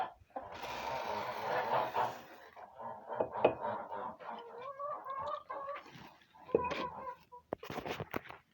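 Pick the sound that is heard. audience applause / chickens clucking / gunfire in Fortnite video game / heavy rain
chickens clucking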